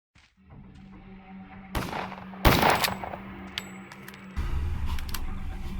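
Gunshots ring out in the video game Pathologic, a few sharp isolated cracks spaced over a few seconds against a low ambient drone, with no talk.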